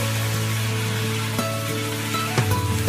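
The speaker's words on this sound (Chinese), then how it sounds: "翻炒均匀" Beef stir-fried in a wok with a splash of baijiu poured in, giving a steady close sizzle with scraping stirs and a louder hiss burst near the end.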